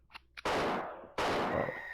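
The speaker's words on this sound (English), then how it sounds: "I swear I just heard gunshots." Two loud gunshots go off in a video game, each a sharp crack with a long, decaying tail, after a couple of faint clicks.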